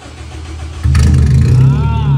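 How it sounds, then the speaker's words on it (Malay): A 2.0-litre non-turbo VTEC car engine cranks and catches partway through, then settles into a loud, steady close-up idle. "Okay, kita start le enjin."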